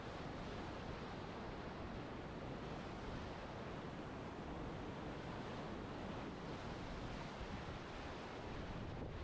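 A steady, loud roar of rushing water from a rapid on the Illinois River, constant and unbroken throughout with no voices.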